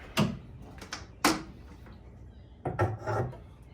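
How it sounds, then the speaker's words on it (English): Car hood latches released and the hood raised, heard as several close knocks and clunks with short metallic scrapes between them, spread over a few seconds. "So I'm just going to pop the hood, these latches down. This thing raised up here."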